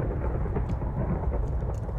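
A thunderstorm from a Minecraft modpack game rumbles low and continuously, a dense rolling thunder with rain hiss, steady and fairly loud throughout with no voices.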